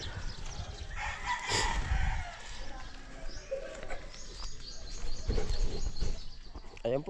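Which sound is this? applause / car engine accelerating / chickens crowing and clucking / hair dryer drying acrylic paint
chickens crowing and clucking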